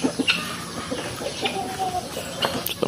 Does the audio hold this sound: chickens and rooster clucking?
yes